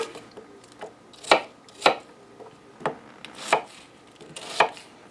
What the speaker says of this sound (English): Just a quick chop in here.